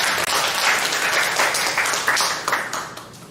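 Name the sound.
applause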